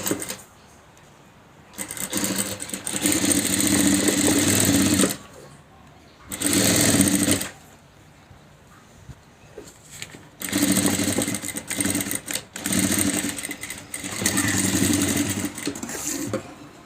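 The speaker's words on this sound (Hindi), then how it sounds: "फिर इसको फोल्ड करके दूसरी सिलाई इसके ऊपर लगाएंगे।" A sewing machine stitches piping onto a handmade makeup box in four loud rapid bursts separated by short pauses.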